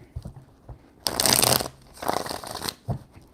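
A deck of tarot cards is shuffled close up in two distinct riffling bursts separated by a short pause, with a few soft handling taps between them.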